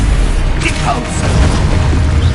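A Depulso spell blast from the video game Hogwarts Legacy: a muffled boom among dense, continuous game effects and magical noise, steady and fairly loud throughout.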